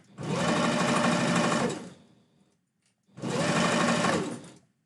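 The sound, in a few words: sewing machine stitching fabric for a husky tail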